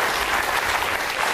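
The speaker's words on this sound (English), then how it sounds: "Round of applause, Alan, Missy and" Studio audience at a televised Christmas special breaks into sustained, dense applause, steady and loud throughout with no voices standing out.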